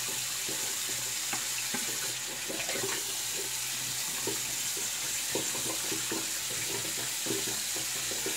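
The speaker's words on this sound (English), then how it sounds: "Rinse this soap off here," A water tap runs steadily and close to rinse shaving soap, with a continuous splashing hiss and small clinks and knocks of items being rinsed under the stream.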